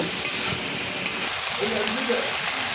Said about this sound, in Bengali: সবজিগুলো দিয়ে এবার এটাকে নাড়াচাড়া করব মশলার সাথে সমস্ত সবজিকে আমি নাড়াচাড়া করে মাখিয়ে নেব